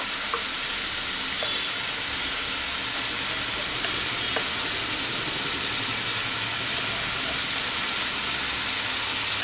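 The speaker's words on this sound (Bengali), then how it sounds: "এবার আরও 1 মিনিট একটু কষিয়ে নেব।" Giant taro (mankochu) paste sautéing in a pan, giving a steady, fairly loud frying sizzle and hiss with occasional faint stirring clicks, continuous throughout with no talk.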